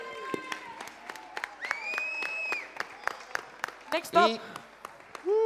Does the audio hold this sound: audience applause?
yes